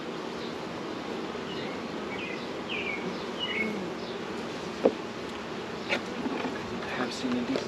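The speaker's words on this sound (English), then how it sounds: "Just gajillion bees." A swarm of bees buzzes steadily around hives outdoors, a dense, fairly faint hum with individual insects droning past up close and a few soft knocks of handling.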